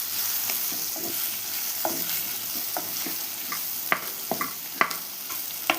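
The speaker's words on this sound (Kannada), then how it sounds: "ನೋಡಿ, ಚೆನ್ನಾಗಿ ಫ್ರೈ ಆಗ್ತಾ ಇದೆ." Broccoli and capsicum frying in a pan with garam masala, a steady close sizzle punctuated by repeated sharp spatula scrapes and taps that grow louder toward the end.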